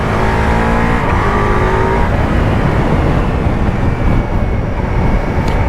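A Ducati Multistrada V4S motorcycle ridden through corners, its engine a loud, continuous roar blended with rushing wind, the pitch rising and shifting early on before settling into a steady drone.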